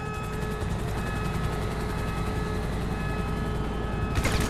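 A helicopter flies during a heist in the video game GTA V, its steady rotor thump and engine whine holding loud and constant before a brief burst of noise at the end, with no talk.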